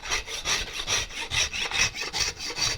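Rasp filing a wooden guitar neck during carving, a rhythmic back-and-forth scraping of about a dozen quick, even strokes heard close and alone.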